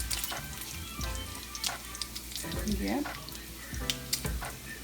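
Bacon crisping in a pan gives a soft, continuous sizzle beneath a nearby person's talk, with clinks from a utensil scattered through.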